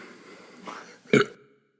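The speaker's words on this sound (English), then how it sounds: "there's a burp coming in." A single short, loud burp from a man sitting at a studio table, preceded by faint breathy throat noise, then silence.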